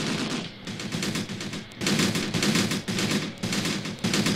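Dense machine gun fire rattles in rapid overlapping bursts during a jungle battle in the war game Graviteam Tactics, loud and continuous with brief gaps, and no voices heard.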